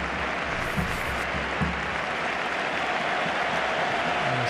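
Stadium crowd at a Barcelona versus Real Madrid Spanish league match applauding Neymar, a broad continuous wash of distant clapping and crowd noise with a few thumps.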